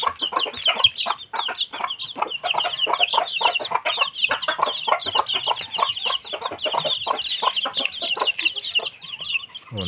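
Hens cluck busily while scratching through the ground for dung worms, a dense, continuous run of close, rapid clucks and chatter with no talk.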